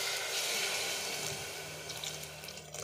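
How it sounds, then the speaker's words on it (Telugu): Water pours steadily into a pressure cooker holding a broad bean curry, making a close, continuous rushing splash that eases slightly toward the end. "ఇప్పుడు మనం దీంట్లో వాటర్ని వేసుకుందాం"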